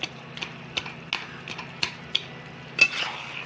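Taro leaves cooked with a hilsa fish head are stirred in a pan, a spoon scraping and clinking against the metal in a steady series of close, crisp strokes over a faint low hum.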